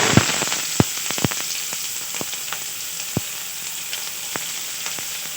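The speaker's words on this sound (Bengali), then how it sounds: "তেলটা গরম হয়ে গেছে পুর রেডি করার জন্যে দিয়ে দেব কিছুটা পেঁয়াজ কুচি" Chopped onion hits hot oil in a pan with a loud, bright sizzle, punctuated by crisp spatters and clinks early on, then settling into a steady hiss.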